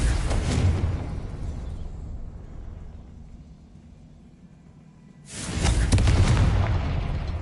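A Confringo fire spell explodes in the video game Hogwarts Legacy: a loud, broad booming blast that decays into a low rumble, then a second heavy burst of roaring noise.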